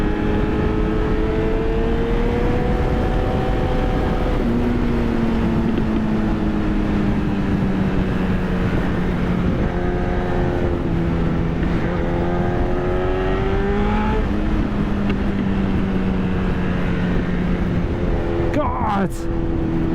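A Yamaha FZ1N or Honda CB1000R motorcycle engine screams loudly and continuously at high revs, its pitch climbing and dropping through gear changes, with wind rush throughout.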